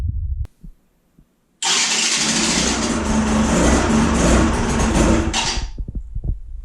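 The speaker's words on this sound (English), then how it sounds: "I just want to see if that flywheel actually spins this time." An electric starter motor spins the flywheel of a Yamaha DT 125 motorcycle engine in one loud, steady whirring run of about four seconds, after a few faint clicks and knocks.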